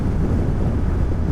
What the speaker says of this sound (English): I am getting some wind across my helmet